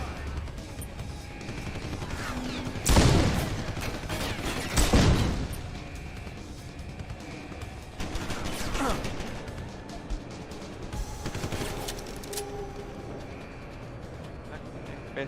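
A revolver fires in Deus Ex: Human Revolution Director's Cut, with several loud, punchy shots spaced a couple of seconds apart over a murky background of game ambience and mechanical noise.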